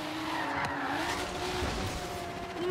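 Tires skid and squeal as a Toyota Supra drifts in the racing video game Forza Horizon, a continuous loud engine roar with a sliding tonal squeal running throughout.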